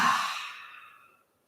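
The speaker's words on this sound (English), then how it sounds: "slowly release through the mouth. A nice big breath in and out." A slow, deep breath released through the mouth during a yoga session, a soft airy exhale close by that fades to silence in just over a second.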